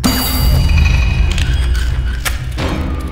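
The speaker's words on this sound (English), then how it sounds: "Okay, a bell right there." A bell rings in the horror video game Showdown Bandit, with a couple of sharp metallic strikes over a loud, steady rumbling game background.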